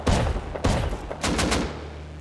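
Four loud, close shotgun blasts in the survival video game Rust, the first two spaced apart and the last two in quick succession, with no talking.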